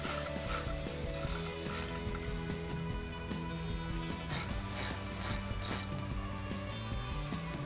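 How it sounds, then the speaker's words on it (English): A 13mm ratchet ratchets steadily while cranking down brake caliper bolts on a 2014-2018 Silverado or Sierra during a brake kit install, giving a continuous close run of metallic clicking that fills the whole stretch. "I'm gonna go ahead and take our 13mm ratchet and our adjustable wrench here, again to hold that backside."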